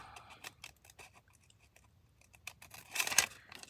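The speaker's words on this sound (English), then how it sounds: "take my scissors and just trim off just a little bit" Quiet snipping and rustling of paper, a few scattered cuts followed by a louder burst of crisp crinkling near the end.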